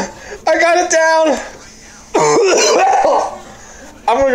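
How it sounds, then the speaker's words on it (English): Harsh, repeated coughing and throat clearing from a young man who has just eaten dog food, arriving in loud bursts close to the mic, mixed with nearby voices and reactions. "Your coughing made me feel sick."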